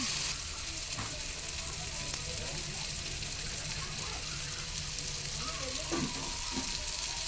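Tomatoes cook with salt in hot oil, giving a continuous soft sizzle with a few faint scrapes of stirring, low in level and unbroken by speech.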